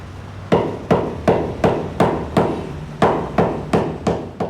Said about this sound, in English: Hammering the ball rounds the joints and sets the stitches.